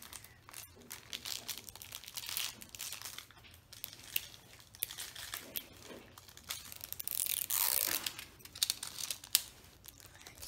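Crinkly plastic wrapping layers of a LOL Surprise doll ball being torn and unwrapped by hand, a busy run of close crackling, crumpling and tearing bursts with a louder flurry near the end.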